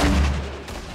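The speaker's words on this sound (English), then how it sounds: "Oh, those are grenades." Grenade explosions in the Fortnite battle royale video game, a loud low boom right at the start that rumbles and fades over about a second, with no talking.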